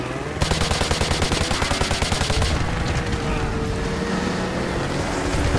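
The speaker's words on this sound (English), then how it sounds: "Just firing for the sake of reloading." Gunfire in the video game Modern Warfare 2 Remastered, a loud sustained automatic burst of rapid evenly spaced shots for a few seconds, then rumbling aftermath with scattered distant shots.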